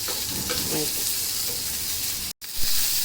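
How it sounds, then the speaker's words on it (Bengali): Tomatoes and mixed vegetables fry lightly in a pan, a close, steady sizzle that runs unbroken before a brief dropout near the end. "এখন এগুলোকে ভালো মতন ভেজে নেব"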